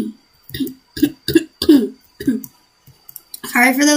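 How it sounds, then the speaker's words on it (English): A series of rough, guttural throat-clearing coughs close to the microphone, about six quick bursts, followed by a short burst of speech. "I just had to clear my throat."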